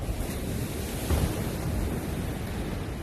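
Ocean surf washes steadily onto a beach, a dense continuous roar of breaking waves mixed with wind buffeting the microphone, with no voices.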